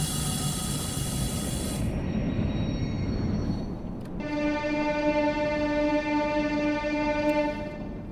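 A train in a railway simulator game crawls up toward a signal: a steady hiss and rolling rumble, with a tonal horn-like whine that drops off, then returns as a sustained tone over the running noise.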